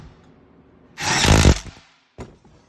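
A power drill with an 8 mm bit drives a bolt into the rear rack of a Venom 125cc Grizzly gas ATV, one loud whirring burst of under a second, then a short second blip after a pause, with no talking.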